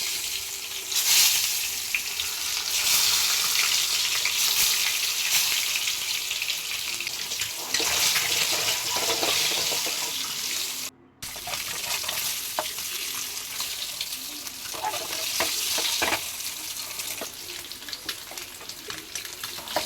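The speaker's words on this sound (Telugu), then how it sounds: "కొంచెం ఆయిల్ వేడెక్కాక ఒక స్పూన్ పసుపు వేసుకుని గుడ్లు వేసుకొని వేయించుకోవాలి" Eggs frying with a spoon of turmeric in hot oil for an egg and prawn curry, a continuous loud sizzle with stirring and scraping, a short break midway, and no voices.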